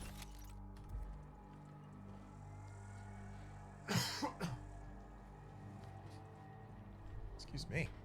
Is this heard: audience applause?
no